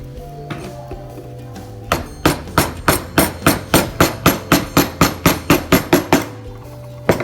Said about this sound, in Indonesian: tahap selanjutnya kalian bisa menggunakan pahat kol ya teman-teman